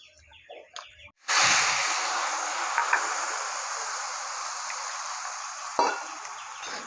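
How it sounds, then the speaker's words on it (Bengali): Oil with five-spice seeds hits a hot wok in a Bengali village kitchen and bursts into a loud, steady sizzle that carries on, close, with a faint clatter partway through and brief outdoor sounds before it starts. "কড়াইয়ে তেল আর পাঁচফোড়ন দিয়ে দিয়েছি"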